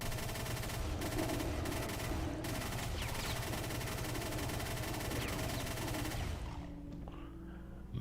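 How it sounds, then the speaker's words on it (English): A chain gun in the video game Brutal Doom 64 fires in a continuous rapid burst for about six seconds, loud and dense, then cuts off, leaving a low hum and faint game sounds. "Right, time to get my chain gun."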